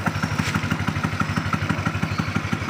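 A motorcycle engine fitted in a homemade car runs after a kick-crank start, putting out a steady, rapid putter of even firing pulses, close and fairly loud with no talk.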